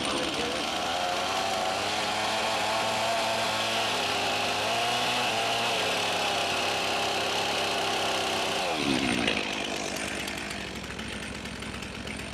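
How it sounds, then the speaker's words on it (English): A chainsaw cutting into a log on a sawmill, loud and continuous with a high revving whine and steady buzz that changes pitch near the end as the cut shifts. "Just need to get the chainsaw going."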